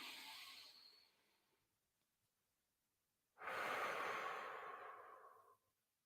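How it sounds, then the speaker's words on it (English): Deep diaphragmatic breathing, one slow drawn inhale then a quiet pause and a long, steady exhale, close and soft. "Deep diaphragmatic breathing."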